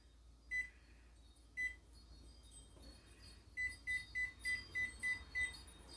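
An oven timer beeps while being set in a home kitchen during pizza baking: two single beeps, then a quick run of about seven evenly spaced beeps, close and clear over a quiet room.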